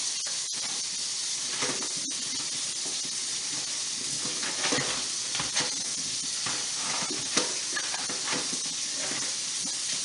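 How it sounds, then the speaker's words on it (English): Running tap water hisses steadily as strawberries are rinsed in a kitchen, a constant close spray with small clicks and shifts as the berries are moved under the stream. "I'm going to rinse off my strawberries."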